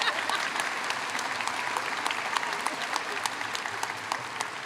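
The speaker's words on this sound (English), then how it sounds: "One more round of applause for Ashok." A round of audience applause for a speaker at a 2023 high school graduation ceremony; dense, steady clapping from a large crowd with sharp individual claps standing out, no talking.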